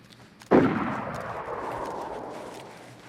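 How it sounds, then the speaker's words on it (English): A single loud gunshot in a DayZ video game firefight cracks out, followed by a long rolling echo that slowly fades, with faint distant activity behind it. "It's some kind of firefight going on."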